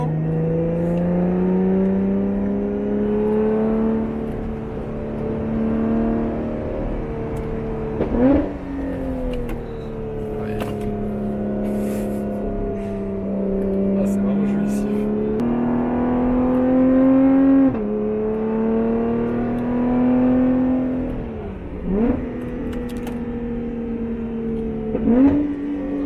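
Lotus Evora GT410 engine heard from inside the car while driving, with a steady droning note that climbs and falls, and sharp blips and rising revs after each paddle downshift, loud and continuous over about 26 seconds.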